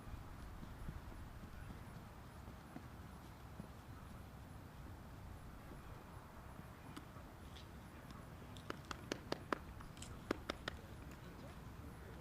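Horse hooves clip-clop through a dressage test, a steady soft footfall rhythm under a low background din, with a few sharper clicks near the end.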